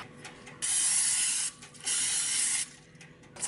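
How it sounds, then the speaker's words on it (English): Butter spray mists onto a waffle maker in two steady hissing bursts, each about a second long, close and clear with quieter gaps between. "I'm gonna spray my waffle maker with my butter spray."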